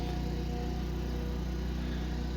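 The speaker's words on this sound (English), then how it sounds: "Sorry about the noise from the neighbours mowing the lawn." A neighbour's lawn mower runs steadily in a garden, a continuous engine drone with a low rumble that stays even throughout, with no voices.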